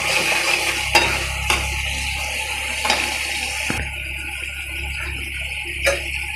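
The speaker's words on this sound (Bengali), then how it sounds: "এই যে দেখেন আমি মশলাটা সুন্দর করে কষিয়ে নিচ্ছি" Spice paste sautéing and being stirred in hot oil, a steady soft sizzle broken by a few sharp scrapes and knocks of the spoon against the pan, close by with no talking.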